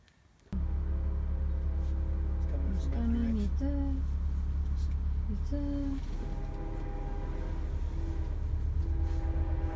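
A train rumbles past very close, a sudden loud, steady roar with squealing metallic tones layered over it.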